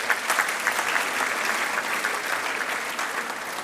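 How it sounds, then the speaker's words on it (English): Audience at a university graduation congregation ceremony applauding steadily, a dense even wash of clapping that stays loud from start to finish with no pauses. "I think we should clap for them."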